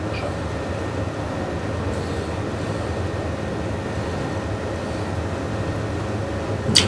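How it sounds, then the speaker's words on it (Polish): A train runs along the track at about 50 km/h, giving a steady, continuous rumble with no break and no voices, ending in a brief louder bump. "pociąg przejeżdża z prędkością 50 km na godzinę"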